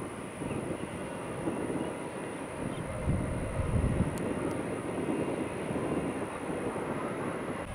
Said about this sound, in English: We got 1365 JetBlue coming to see us.